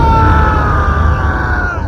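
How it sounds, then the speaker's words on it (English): A prolonged scream in an animated horror story, a character shrieking as they are grabbed by the feet and dragged off a toilet in a bathroom stall; a loud, sustained, strained cry over dark rumbling music that cuts off abruptly. "I screamed as he grabbed me by my feet and pulled me off the toilet."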